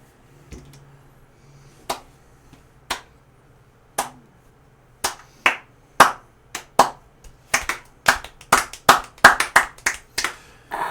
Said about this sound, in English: The crowd does erupt in just a nice applause.